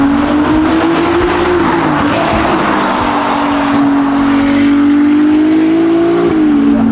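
A matt white 1109hp Novitec Ferrari SF90 hybrid supercar drives past loudly with a strong, steady engine drone whose pitch rises and dips slightly, continuous and close, with no talk.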